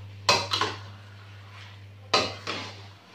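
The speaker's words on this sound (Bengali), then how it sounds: "আমি একটুখানি নাড়াচাড়া করব এটা" A metal spoon scraping and clanking in a pan of chicken bhuna, two quick pairs of knocks separated by a quiet pause, over a low steady hum.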